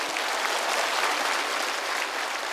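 Dense, loud audience applause at a year-end singing contest, steady and sustained throughout without a break.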